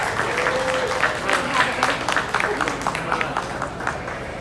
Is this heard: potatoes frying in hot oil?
no